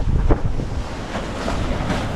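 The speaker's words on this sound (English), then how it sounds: "I feel like the waves are getting bigger" Ocean waves wash around a sailing boat, a loud continuous rush of surf and wind buffeting the microphone, with one stronger splash near the start.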